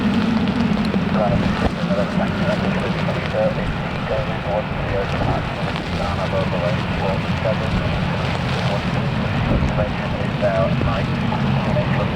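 Storm rain at Manchester Airport hisses steadily and loudly with wind and a distant aircraft rumble, while someone talks throughout.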